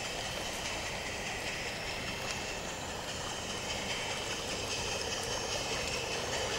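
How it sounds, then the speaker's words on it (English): A steady, broadband rumble and rushing noise of a small Peckforton Light Railway miniature train running along the track, constant and fairly distant, with no voices. "Our train passes by the gatehouse for Peckforton Castle."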